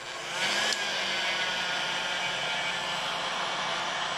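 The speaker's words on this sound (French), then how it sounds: "on va mettre un petit peu de pistolet thermique dessus" A heat gun blows a steady, close rush of hot air onto a car grille under repair, with a brief louder burst near the start before the broadband hiss settles into an even drone.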